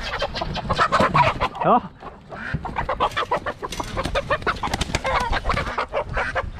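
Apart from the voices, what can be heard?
rooster clucking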